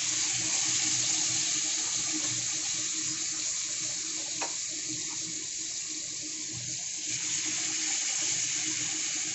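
Steady tap water runs continuously into a kitchen sink while a plate is rinsed, a broad even rush with faint clinks of the dish beneath the flow, no voices.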